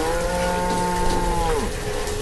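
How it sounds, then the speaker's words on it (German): A cow in the village-building game Banished, standing in a well, lets out one long, close moo over a steady rain-like background hiss. "Ja, die Kuh da hinten, die steht da immer noch im Brunnen."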